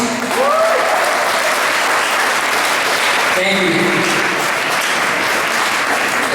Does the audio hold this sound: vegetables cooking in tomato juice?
no